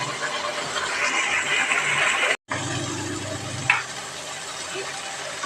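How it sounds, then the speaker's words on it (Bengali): Spices sizzle in hot oil for katla fish kalia, a steady frying hiss with stirring, close and fairly loud, broken by a brief gap and a sharp scrape. "ভালো করে মশলাগুলোকে ভেজে নেব।"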